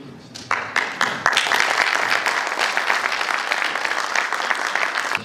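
An audience at a leadership forum welcomes the prime minister with warm applause, starting with scattered claps and swelling into steady, dense clapping that fills the hall.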